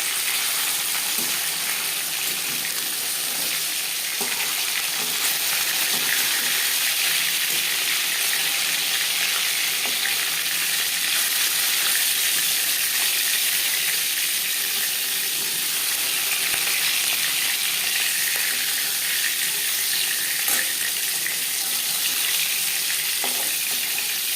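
Pieces of silver carp fry in a pan of hot oil for a fish jhal, giving off a steady, close, continuous sizzle with faint stirring and clinks throughout.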